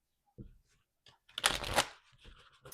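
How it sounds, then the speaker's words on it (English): A deck of cards is shuffled close to the microphone. A few light taps come first, then a dense riffling burst, followed by softer card handling. "But now I hid the deck, and then it shuffles better."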